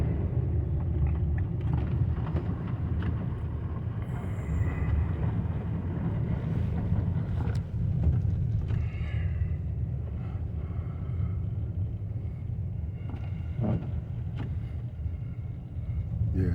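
A car drives slowly through a snowstorm on fresh snow, its steady low engine and tyre rumble running continuously and close, with a wind-like hiss over the top and no talk.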